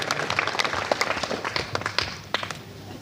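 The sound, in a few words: audience applause welcoming a speaker on stage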